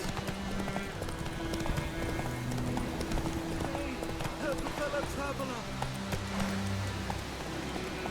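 A horse gallops steadily in The Witcher 3, its hooves clip-clopping in a fast, even rhythm, with the occasional short whinny over a rainy, ambient backdrop.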